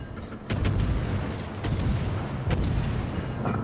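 Naval gunfire from a US tier 10 destroyer, the USS Somers, in a World of Warships battle: heavy booming salvos at a steady pace, loud and close, with no talking.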